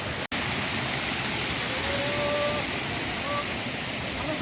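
Changge waterfall, a hidden waterfall near Banepa in Nepal, produces a constant broadband roar of falling water heard at close range, broken by one brief dropout near the start.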